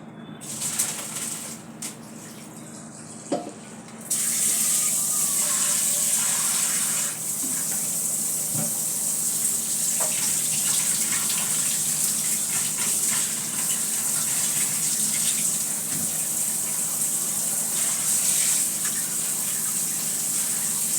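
Boiled pasta is drained and rinsed under a steady gush of running water in a kitchen, loud and close, starting after a few seconds and pouring continuously, with occasional clinks.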